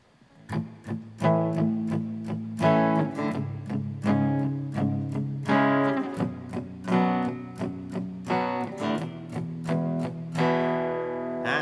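Acoustic guitar strums power chords in a choppy rhythm, with muted percussive hits between the strums and the final chord left to ring.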